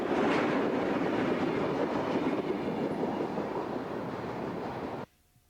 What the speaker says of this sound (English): northbound Union Pacific NLIN rattles downtown Bell City at 8:25 a.m.